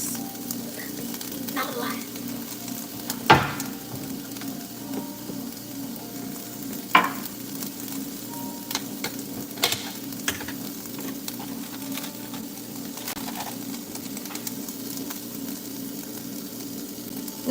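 Butter sizzles in a pan with peppers and steak, a steady low fry under occasional utensil clinks and knocks, with a brief spoken remark.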